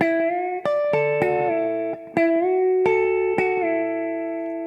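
Guitar notes are picked and bent smoothly upward, gliding between pitches like a steel guitar, each note ringing clearly and alone.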